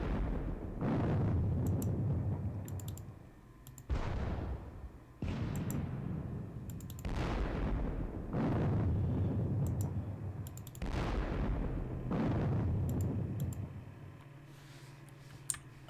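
Artillery fire in a Gettysburg war strategy game: about eight booming shots, each a sharp onset decaying slowly, spaced roughly every one to two seconds with faint clicks between, no talk.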